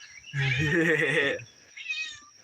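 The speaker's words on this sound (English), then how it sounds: "Listen to all them fucking cats." Several cats meow and yowl near a satellite antenna setup outdoors, one long loud wavering cry followed by a shorter, fainter meow.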